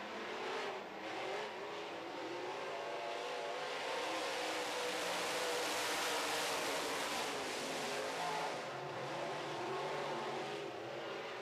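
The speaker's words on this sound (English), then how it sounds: "Here comes Imrie once again to take a stab at the car number 9." Modified race cars roar around the Red River Co-op Speedway oval in a heat race, a continuous loud wash of engine noise that swells and fades gently as the pack sweeps past, with no voices.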